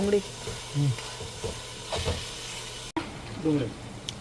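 Ingredients for Mehsana-style tuvar totha sautéing in a pan, a close crackling sizzle with occasional stirring scrapes, while a voice speaks briefly over it.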